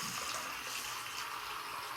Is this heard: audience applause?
no